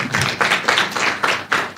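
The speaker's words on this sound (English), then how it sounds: "a round of applause." A university audience at a tech event claps briefly, a loose, rhythmic patter of about six or seven close hand claps.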